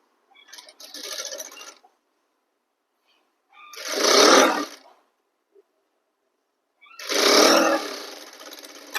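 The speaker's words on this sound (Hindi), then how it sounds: "दूसरी साइड भी ऐसे ही सिलाई लगाएंगे" A sewing machine runs stitches along a suit seam in three separate bursts of close, steady whirring, with quiet pauses between them and no talking.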